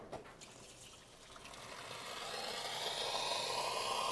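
Hot water runs from an expensive tap into a glass, a steady trickling flow that gradually swells and brightens as the glass fills, alone and fairly quiet.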